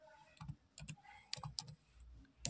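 A chkdsk command typed on a computer keyboard in Windows: a handful of quiet, irregular key clicks and taps, close but faint, with brief gaps between keystrokes and no talk.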